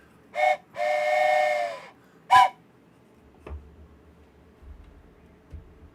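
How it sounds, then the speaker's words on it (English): Steam-style train whistle from the video game OpenTTD sounds close and loud: a short toot, a longer held blast, then another short toot, followed by faint low rumbling. "I will raise my train whistle."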